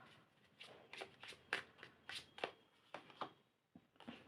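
Tarot cards are shuffled and drawn in a quiet room, giving a series of soft, crisp riffles and slaps at an irregular rhythm of roughly one every half second.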